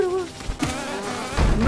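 Buzzing swarm of bees in the hive area of the Hollow Knight video game, a steady insect drone with game effects swelling louder near the end.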